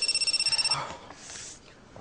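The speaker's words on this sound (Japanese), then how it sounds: "電話鳴ってますよ" A phone ringer in a comedy skit trills in a rapid pulsing burst for under a second, then gives way to quieter room noise and faint rustling.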